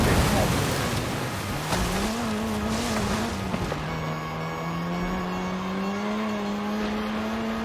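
A Volkswagen Scirocco driven off-road in Forza Horizon 5 gives a steady engine drone with rising and falling pitch and tire noise throughout, loud and close, with no talk over it.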